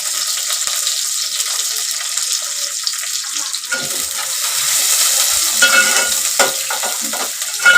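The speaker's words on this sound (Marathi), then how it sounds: "मी आता इथे ना तेल ओतते आणि कांदा आणि कढीपत्ता फोडणीला घालते." Onion and curry leaves hit hot oil and ghee for a tempering, giving a loud, steady, close sizzle with scraping stirs and louder crackling bursts toward the end; no talking.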